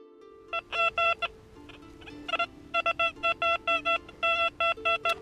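A metal detector sweeping over muddy ground gives several bursts of electronic signal tones, short repeated beeping pulses in quick rhythmic groups, clear and close over a quiet background with no talk.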